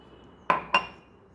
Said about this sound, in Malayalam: ഇനി ഞാനെല്ലാം കൂടി മിക്സ് ചെയ്യുവാണേ. മൈദയും കൊക്കോ പൗഡറും.